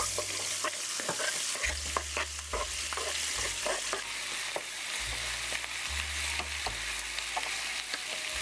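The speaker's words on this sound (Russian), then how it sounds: "И теперь отправляю обжариваться лук." Onions sizzle steadily in a hot pan with garlic, being fried for pork chops, with repeated scraping and stirring clicks over the frying and low background music throughout.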